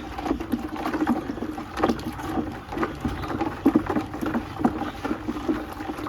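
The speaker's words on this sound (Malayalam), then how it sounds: "ഇനി ഇത് നമ്മളൊന്നും കൂടി നല്ല രീതിയിൽ ഇളക്കി കൊടുക്കാം" Homemade organic plant fertilizer is stirred in a container, giving a steady wet sloshing and churning with soft irregular splashes throughout.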